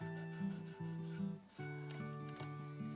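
A wet t-shirt rubs over painted second-hand furniture to distress the finish, giving a steady, close scrubbing hiss in back-and-forth strokes with brief pauses.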